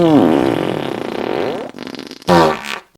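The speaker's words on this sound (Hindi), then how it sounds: "कितने स्वर में पादा है और कितना मीठा पाद है" A comic Hindi story's daughter-in-law breaks wind in a long, loud, buzzing fart with wavering pitch lasting over a second and a half, then a short second burst after a brief pause.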